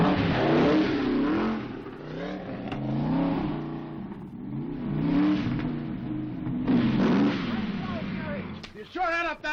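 A race car engine revs and roars on a qualifying lap of a road race, rising and falling in pitch and staying loud and close, with voices talking over it.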